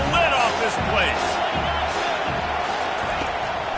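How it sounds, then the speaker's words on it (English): A roaring stadium crowd in a football video game cheers loudly and continuously on third down, a dense wash of voices with scattered whoops and thumps throughout. "Third down, and this crowd is tearing the lid off this place."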